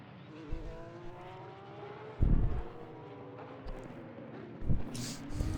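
Race cars in Assetto Corsa Competizione circle Laguna Seca during a pro two-hour race, their engines a steady, moderately faint drone with a few dull thumps and no clear talk.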